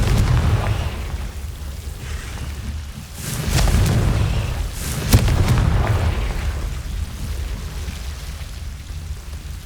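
Blasting-spell explosions in the Hogwarts Legacy video game: a couple of deep booming bursts ring out over a rumbling, noisy game soundscape, with sharp crackling pops near the middle.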